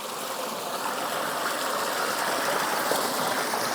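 Pumped water rushing through a downspout, a steady close gushing stream that holds constant and slightly swells over a few seconds, with no voices.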